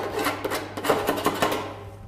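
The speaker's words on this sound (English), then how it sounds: "After cutting it, I file the end with a knife and place another stop end there." A knife scraping along the cut end of a metal rain gutter, a series of short rasping strokes in quick irregular rhythm, close and moderately loud over a low background hum.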